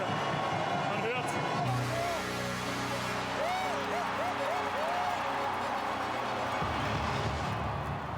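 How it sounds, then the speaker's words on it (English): A crowd at a STIHL Timbersports Nordic rookie championship in Norway cheers and claps loudly throughout, with whistles and shouts over a low rumble and a commentator's voice talking over the noise. "They make a lot of noise, and that's good for our spirit."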